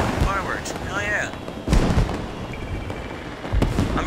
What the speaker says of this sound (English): look at all the fireworks in the sky